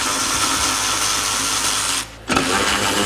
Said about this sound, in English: using a 15mm socket on our ratchet, we're gonna go ahead and remove the 2 bolts that attach our bumper to our frame